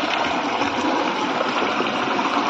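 Water drains steadily out of soaked wheat sacks, a continuous close rushing and trickling sound with no pauses.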